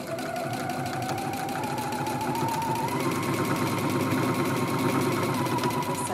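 An electric sewing machine runs steadily, stitching along the folded edges of a fabric face mask, with a fast, continuous motor whir close by and no talk over it.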